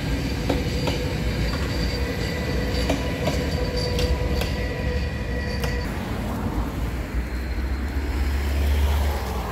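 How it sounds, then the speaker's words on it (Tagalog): The Flåm railway train in Norway rumbles along the track with a steady, loud roar, broken by rhythmic clicks and faint squeals from the wheels; no one speaks. "Train nila rito."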